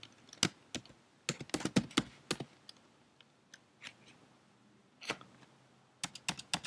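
Clicky keystrokes on a computer keyboard while coding, irregular bursts of close taps with short pauses between them and no talk.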